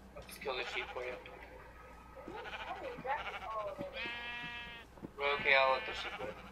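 Sheep in the Minecraft video game bleat several times in short, wavering calls close by, interspersed with conversation between players.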